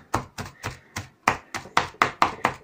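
A pchak knife finely chopping half a red onion on a board, ten sharp knife strikes in a steady quick rhythm, close and clear with no talking.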